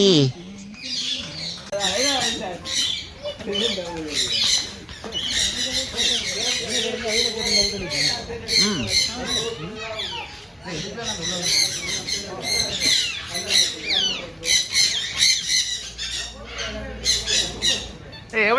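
A parrot gives repeated harsh squawks, loud and close, in a busy stretch of calls mixed with people talking.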